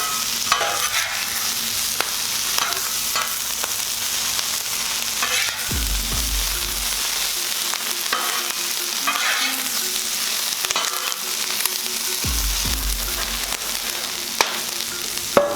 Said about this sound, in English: All you gotta do is throw the stuff on the griddle and heat it up pretty much.